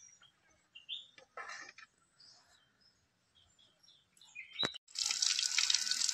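Water drips and splashes lightly at first, then a tap runs steadily as mackerel pieces are rinsed, with a few bird chirps in the background.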